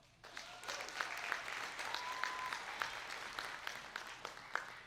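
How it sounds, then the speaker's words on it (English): A warm round of audience applause for a student association president at a Vietnamese culture showcase, steady crowd clapping that starts abruptly and continues at moderate level, with a few sharper individual claps standing out. "please give a warm round of applause to our UVSA president"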